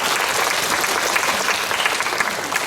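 Loud, steady applause from a cinema audience at a live stage greeting event at CGV Yeongdeungpo, a dense wash of clapping hands filling the whole stretch with no talk over it.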